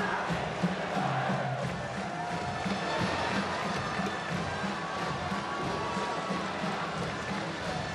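A packed stadium crowd at a World Baseball Classic game between the Netherlands and Chinese Taipei roars and cheers steadily, a dense wash of shouting and whoops with voices mixed into it.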